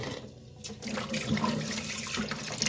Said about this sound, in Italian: E qua sciacquiamo bene